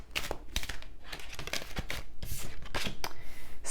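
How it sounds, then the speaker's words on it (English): A deck of oracle cards is shuffled by hand in quick, crisp riffles and slides, close and fairly quiet, with repeated short bursts and no talking. "Let's do some shuffling."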